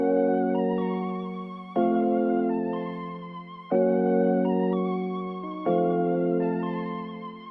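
Layered Sky Keys keyboard chords for a hip hop beat ring out alone, four sustained chords of about two seconds each, each struck cleanly and then slowly fading before the next.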